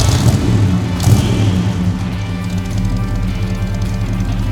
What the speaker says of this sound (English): We're gonna fire it up, see how she sounds.